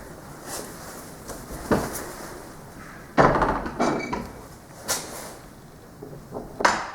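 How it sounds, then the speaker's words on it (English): Several dull knocks and thuds, one louder bang of a door shutting, scattered over a quiet room inside a 13th-century church with soft background noise. "Close the door."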